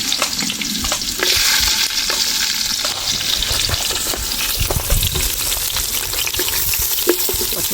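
Carrots and green chillies stir-fry in a hot pan outdoors, a steady close sizzle broken by scraping stirs and faint watery splashes, with no talking.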